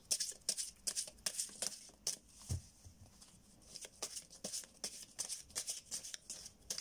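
Tarot cards shuffled by hand for a reading, giving a steady run of quick, close riffling and slapping bursts that repeat with short gaps between them.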